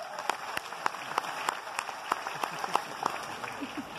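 Audience applause at a leadership training meeting in Mumbai, with sharp, distinct claps standing out over a murmur of crowd noise, fairly close and moderately loud.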